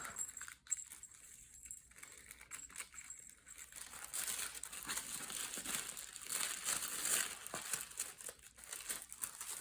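Crinkly packaging being unwrapped from an oracle card deck with white and gold confetti, a steady rustling and crackling that swells and persists close to the microphone, with no talking.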